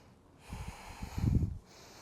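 Slow, deep breaths during a hip and hamstring stretching session, a soft, close, airy exhale with a slight nasal snort, heard once in a quiet room.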